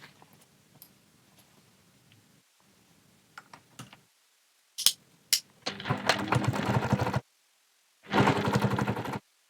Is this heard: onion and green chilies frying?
no